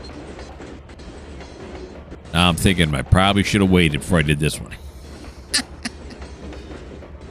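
A low, steady rumble of a train running in the rail simulator Trainz 2022 on the Tidewater route, with someone talking over it in the middle.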